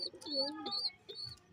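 Pigeons in a rooftop loft in Rajshahi make a short, quiet burst of rising and falling calls, two or three close together, with a faint voice nearby.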